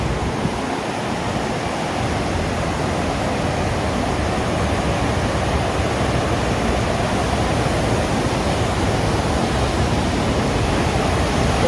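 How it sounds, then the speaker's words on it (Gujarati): Heavy torrent of water discharging through the open gates of Khodiyar Dam near Dhari, a steady, dense, loud roar of rushing water filling the whole span with no talk over it. "આ પાણી કેટલો નિકાલ છે ભાઈ ડેમમાંથી"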